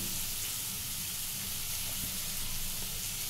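Grated carrot fries in a pan with turmeric, producing a soft, even hiss and sizzle heard close but fairly faint, with no talking.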